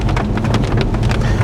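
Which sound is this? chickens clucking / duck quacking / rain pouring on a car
rain pouring on a car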